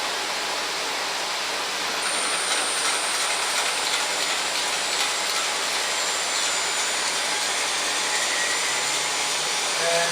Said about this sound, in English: We're going to crank up the spindle motor now.